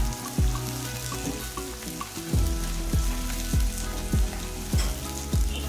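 A cup of chopped onion frying in a pan for boti pulusu, heard up close as a continuous sizzle, broken by repeated knocks of a stirring spoon every half second or so.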